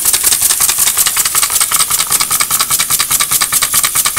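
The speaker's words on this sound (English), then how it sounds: "Now the machine, the piston is going up and up." A homemade swinging-cylinder steam engine runs steadily, giving a loud, close, rapid and even chuffing rhythm with a metallic hiss and no voices.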